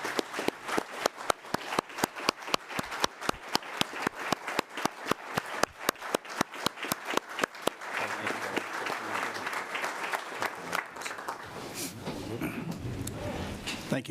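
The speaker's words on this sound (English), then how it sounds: "I think they all deserve another round of applause." County commission meeting audience applauding, starting with rhythmic, evenly spaced claps that loosen into a steady, softer patter of many hands, with faint talk underneath.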